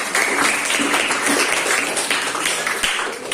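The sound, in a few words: class applauding students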